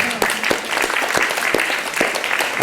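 A room full of people applauding at a school evening event, a dense patter of clapping with a few sharper claps standing out, steady and moderately loud throughout.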